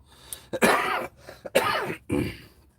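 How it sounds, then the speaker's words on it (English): Harsh, close coughing fit after inhaling a dab of hot vapor, about three heavy rasping bursts separated by brief breaths. "Because dabs always make me cough, man."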